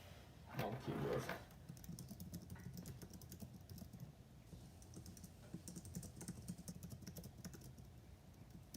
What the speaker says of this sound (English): Oh, keyboard.